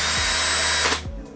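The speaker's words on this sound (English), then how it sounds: "So starting with the power drill." A Makita power drill used aboard a sailboat whirs steadily at close range, then spins down and stops near the end.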